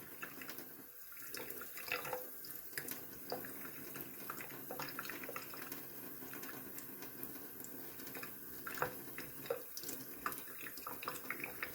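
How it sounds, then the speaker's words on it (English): Tap water runs steadily over a 1954 ACL Dodger soda bottle, rinsing off black soot from a burned dump, with a continuous close splashing stream and small irregular spatters throughout. "I'll do a quick rinse there."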